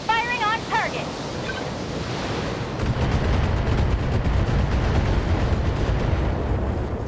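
Heavy rumbling artillery barrages from mechs hammer an SRM carrier in the BattleTech strategy game, a dense sustained roar of explosions and booms after brief radio chatter tones, loud and continuous.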